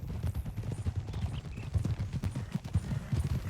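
Horse hooves clip-clop in a steady, fairly close rhythm through a video game, with a brief whinny-like tone partway through and no speech over it.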